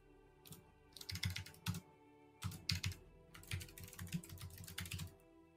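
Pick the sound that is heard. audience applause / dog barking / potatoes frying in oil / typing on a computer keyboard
typing on a computer keyboard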